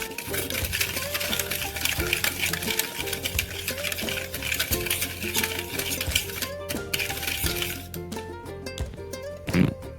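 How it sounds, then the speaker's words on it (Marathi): A spoon stirs a curd and sugar mixture for a semolina cake in a bowl, with repeated close scraping and light clinking strokes, fairly steady with a louder knock near the end and no speech. "आता हे आता हलवत राहायचं बघा छान असं हे मिश्रण तयार करायचं"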